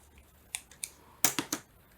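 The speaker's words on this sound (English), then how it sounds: "So just get different pair of scissors out" A pair of scissors snips paper for decorating a journal cover, a handful of crisp, close clicking cuts, two spaced single snips followed by a quick cluster of three.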